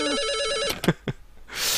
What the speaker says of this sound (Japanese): 勧誘の電話かな？